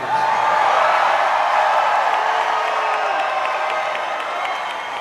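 Large rally crowd in Pensacola, Florida, cheering, whooping and applauding in a loud, steady roar that fills the space and holds for the whole stretch.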